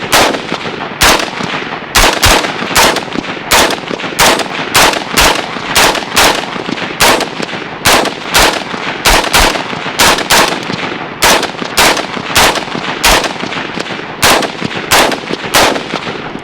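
Rapid shots from a Windham Weaponry MPC AR-15 rifle, loud and close, fired in a fast, steady string of sharp cracks that run on without a break, with no voices.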